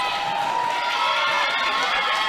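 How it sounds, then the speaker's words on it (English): Team benches at a Wellington versus Taranaki netball game cheer and shout continuously, a dense, fairly loud wash of raised voices with some high-pitched yells standing out. "The benches are beginning to get loud as the clock winds down."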